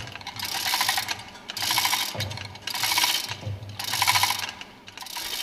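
Someone turns the center screw of a puller tool while overhauling a fuel pump cover. Close metallic ratcheting comes in four rhythmic bursts with short pauses between them, and no voices are heard.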